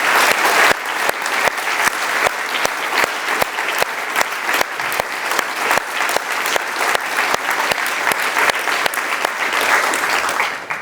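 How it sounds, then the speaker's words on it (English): A large audience at an Oxford business school panel applauds loudly and continuously, dense clapping filling the room for several seconds without speech. "join me in giving a big, big applause"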